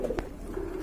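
Pigeons coo softly at close range, a low repeated throaty murmur running continuously through the short moment, with no voices over it.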